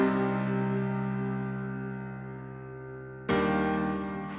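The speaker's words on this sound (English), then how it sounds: "Next up, we have a piano playing some basic chords." A piano sounds sustained basic chords, a long held chord slowly decaying before a new chord is struck near the end, quiet and alone without any voices.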